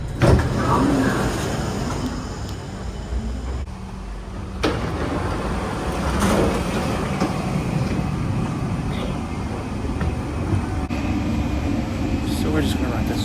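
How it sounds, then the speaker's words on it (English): Inside a Singapore MRT Downtown Line train, a steady rumble of wheels and air conditioning runs throughout, with brief mechanical clunks and shifts in tone as the carriage moves. "And we'll go on the train there"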